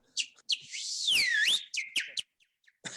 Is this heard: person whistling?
yes